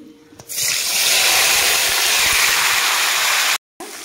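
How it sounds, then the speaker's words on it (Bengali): Pieces of paneer dropped into hot oil, setting off a sudden, loud, sustained hiss of frying that fills the clip, with a brief break near the end. "তেলটা গরম হয়ে গেছে, দিয়ে দিব পনির।"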